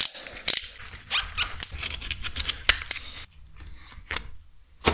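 A part being cut during repair work on an Abarth car, heard as a series of sharp, close snipping clicks spread across a few seconds, with no talk.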